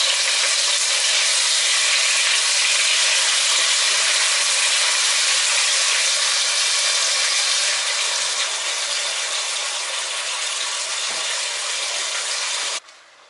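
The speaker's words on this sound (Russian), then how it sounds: "Как только масло хорошенько разогрелось, отправляю печень." Liver frying in hot vegetable oil in a pan gives a loud, steady crackling sizzle that holds evenly for over twelve seconds, then drops off sharply at the end.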